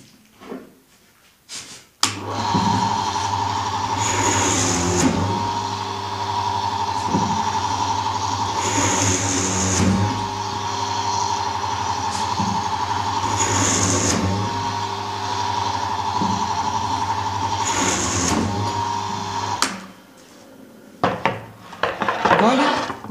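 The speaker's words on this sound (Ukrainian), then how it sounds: "У верхній тумбочці також нам потрібно посверлити з боків товстим сверлом." A drilling machine bores side holes in a kitchen cabinet panel with a thick bit, a sustained motor whine running for about eighteen seconds with periodic louder bursts as the bit bites into the wood, followed by clunks as it stops.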